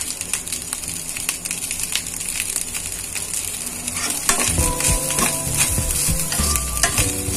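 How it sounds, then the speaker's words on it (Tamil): A spatula scrapes and stirs egg fried rice with spring onion in a hot sizzling pan, steady frying hiss overlaid with repeated close clanking strokes that grow busier toward the end. "சேர்த்து எல்லா இடம் மிக்ஸ் ஆகுன மாதிரி கிளறி விட்டுக்கலாம்."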